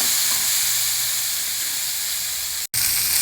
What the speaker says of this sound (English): Add in this boiled chana and stir fry everything well together.